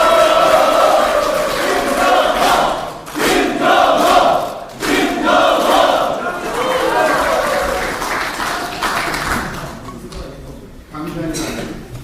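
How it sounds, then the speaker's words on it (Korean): Crowd at a People Power Party Gyeonggi provincial council policy meeting cheering for the party leader, with a loud, sustained roar of voices and applause that swells and dips over twelve seconds. "뜨거운 박수 부탁드립니다"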